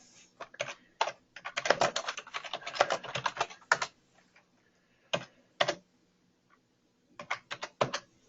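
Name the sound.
typing an address on a computer keyboard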